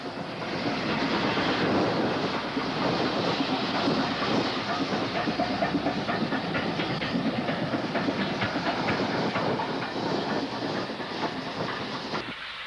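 Locomotive No. 730 returning to Rose Grove after a trip working to Huncote Power Station, a continuous loud rolling rumble with rhythmic clickety-clack of wheels and a hissing edge throughout.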